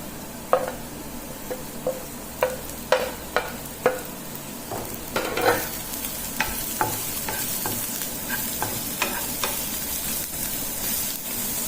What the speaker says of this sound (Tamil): வெங்காயம் பாதி அளவுக்கு நல்லா வதங்கிடுதுங்க